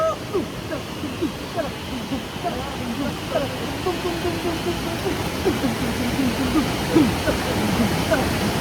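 A strongly flowing water stream, a broad steady rushing roar throughout while people talk over it nearby.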